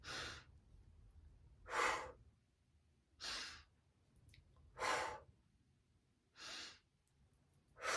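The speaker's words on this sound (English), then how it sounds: "Closing, breathing in. Opening, breathing out." Five faint, evenly spaced breaths in Kundalini pranayama practice for bad backs, each a short airy rush about one and a half seconds apart, alone in a quiet room.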